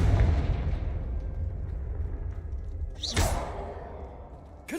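Confringo fire spell blasting in Hogwarts Legacy, a sharp whooshing burst at about three seconds standing out over a steady rumbling game background.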